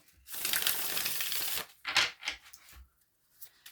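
Tarot cards are shuffled close by in a burst of rapid riffling and rustling, followed by a few soft taps and card flicks before quiet.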